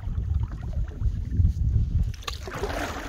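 Paddles dip and swirl steadily through the water as a loaded canoe glides along a lake shoreline in Algonquin Park in spring, with a low wind rumble on the microphone and a brief splash near the end.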